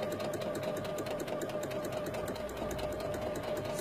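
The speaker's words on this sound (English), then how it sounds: "I'm using the side of my presser foot as a guide." A sewing machine stitches fabric close up, running in a continuous fast steady whir with rapid needle clatter and no pauses.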